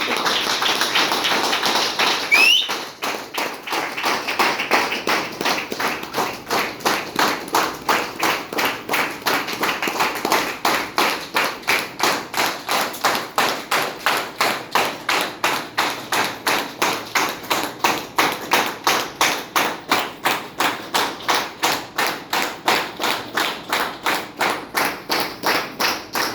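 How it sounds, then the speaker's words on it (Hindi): A crowd gives loud, sustained applause to welcome leaders onto a stage, the dense clapping swelling and pulsing steadily for the whole stretch with no voices over it. "जोरदार जोरदार ताली।"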